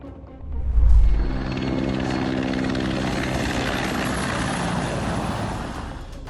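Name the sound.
low-flying helicopter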